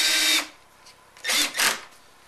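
A power drill drives screws into the plastic front bumper of a Jeep Patriot: one short burst of whirring, a pause, then two more quick bursts close together, near and fairly loud with no talking.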